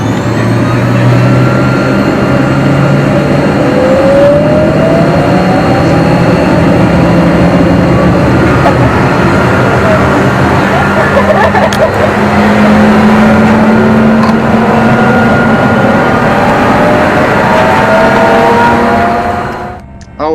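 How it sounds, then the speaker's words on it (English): A Mi-8 helicopter taxis toward the runway on a volunteer trip, its heavy engine and rotor droning loud and steady at close range for the whole stretch, then cutting off abruptly at the end. "our helicopter begins to taxi to the runway"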